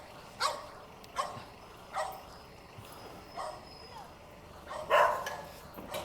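Dogs barking beside a noisy road: sharp single barks repeat at roughly one-second intervals at moderate distance, over a steady background rumble, with a voice speaking now and then.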